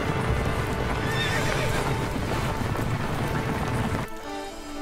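Small horses race pulling chariots in an ancient Olympic setting, with rapid clip-clop hoofbeats and whinnies over a dense, loud rush that cuts to quieter sound near the end.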